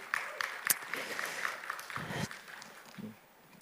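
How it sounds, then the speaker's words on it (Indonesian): A church congregation claps during a service, a moderate burst of applause that thins out and fades toward the end, with faint voices mixed in. "mari kita tepuk tangan sekali lagi"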